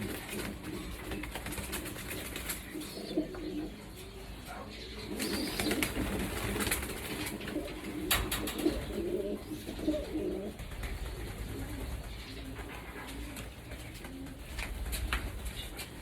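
Young racing pigeons coo steadily and close by as they crowd in to feed, with soft wing flaps and rustling among the low, continuous calls.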